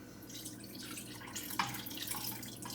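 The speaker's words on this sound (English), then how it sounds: "it is time for the final pour" Homemade bone broth pours from a cooking pot in a steady, soft liquid stream with a few small splashes, close by and fairly quiet, without talk.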